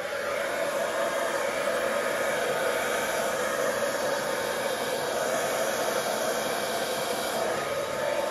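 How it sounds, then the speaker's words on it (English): A hair dryer blows steadily and loudly across a canvas to spread poured metallic acrylic paint, a constant broadband whoosh with no pauses and no voices. "And then I will use the hairdryer to blow it out to get a nice even coverage."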